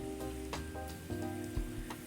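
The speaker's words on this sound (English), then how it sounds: "like when you drop the mushrooms in and they sizzle" Mushrooms dropped into a hot non-stick pan sizzle steadily, with a few brief clatters as they land and settle, heard close and alone without any talk.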